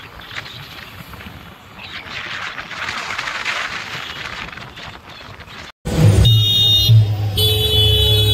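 A car rolling along a road on a trip to Matheran: steady tyre and engine rumble, then a sharp cut to a louder, busier passage with tonal sounds over the vehicle noise.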